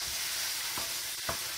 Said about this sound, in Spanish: Así que agregamos la verdura.